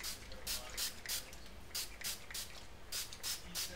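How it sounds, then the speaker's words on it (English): Several short hissing bursts of lightweight conditioning spray misted onto relaxed hair, close and fairly loud, in an irregular run of quick pumps with brief pauses between. "spray on my lightweight conditioning spray"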